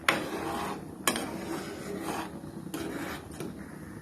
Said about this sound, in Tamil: இப்போ நல்லா கிளறி விட்டுக்கோங்க